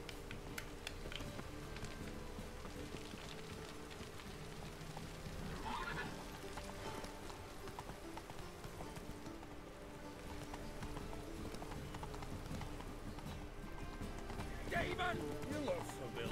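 Roach, a horse in the video game Witcher 3, trots with steady clip-clop hoofbeats and lets out a whinny, faint and game-like, with someone talking over it throughout.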